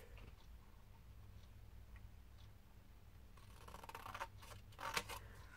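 Scissors snip something in two, a short run of crisp, close cutting clicks following a quiet stretch of faint ticking, with no talking.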